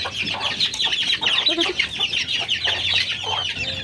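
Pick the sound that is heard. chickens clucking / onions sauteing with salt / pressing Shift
chickens clucking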